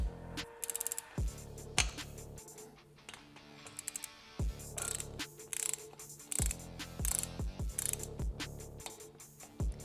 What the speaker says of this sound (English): Let's get this bad boy torqued down properly.